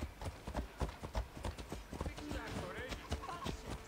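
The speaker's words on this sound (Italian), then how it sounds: "Ma senti degli zoccoli di cavallo, togliti dalla strada." Horse hooves clip-clop along a road in Assassin's Creed Odyssey, a quick regular gallop of sharp hoof strikes close by, mixed with game sound and occasional talk.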